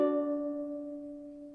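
A ukulele chord rings out from one strum and slowly decays, alone and fairly quiet.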